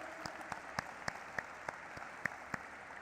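Scattered claps from an audience at a stock exchange listing ceremony for an Indian asset management firm, sounding as a handful of sharp, separate hand claps spread evenly over a soft room hum.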